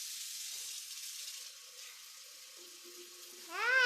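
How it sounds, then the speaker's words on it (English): Water runs into a vase filled at home by children, a steady broadband rush that softens midway and rises to a brighter gurgling pour near the end as the vessel fills. "I fill the vase with water."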